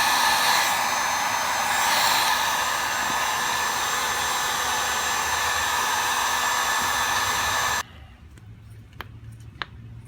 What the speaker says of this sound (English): I just got my heat gun. I'm going to warm it up.